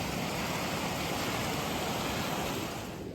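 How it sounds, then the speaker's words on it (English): A fast-flowing mountain river in a cold winter glen rushes steadily, a dense broadband roar of water heard up close and continuously, fading slightly at the end. "Following the fast flowing river,"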